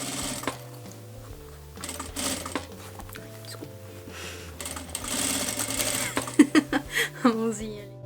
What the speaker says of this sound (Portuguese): Eu vou rebater aqui a costurinha bem aqui também